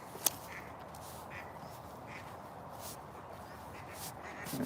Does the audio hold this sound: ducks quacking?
yes